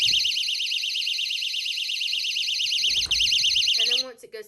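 A Dollar Tree door-opening security alarm blares a loud, warbling electronic siren close by for about four seconds, then stops abruptly as a voice begins speaking.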